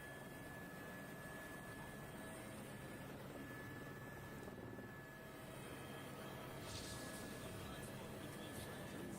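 A helicopter in a video game drones as a steady, fairly faint rotor and engine hum throughout, with a brief lift in loudness near the end.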